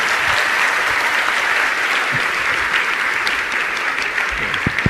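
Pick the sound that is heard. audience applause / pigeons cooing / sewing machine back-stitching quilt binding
audience applause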